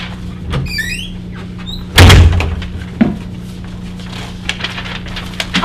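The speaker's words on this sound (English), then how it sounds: "she swept across the room and slammed the front door shut" A front door slams shut once, a loud, close, booming thud with a short rattle after it, then a fainter knock and light creaks in a quiet room.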